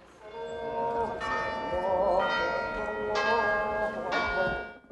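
Church bells in Nazareth ring in a slow, steady sequence of resonant strikes, each new toll layered over the ringing of the last.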